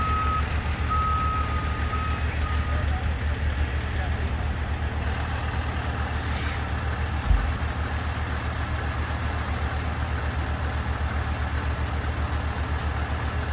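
A tow truck with a crane reverses to lift a vehicle out of a backyard swimming pool, its reversing alarm beeping steadily over a low, continuous engine idle.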